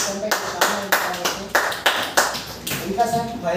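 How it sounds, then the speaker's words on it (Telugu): Audience clapping at a plan presentation, a loud but uneven run of sharp claps with a voice speaking underneath. "వెరీ గుడ్, గట్టి చప్పట్లు కొట్టచ్చు మేడం."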